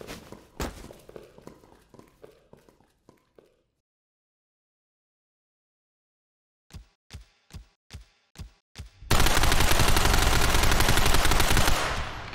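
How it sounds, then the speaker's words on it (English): Suppressive gunfire in a cinematic Unreal Engine 5 action film: scattered clicks and knocks, then silence, then a spaced series of loud, sharp single gunshots leading into a sustained roar of heavy fire, all without talk. "Suppressive fire."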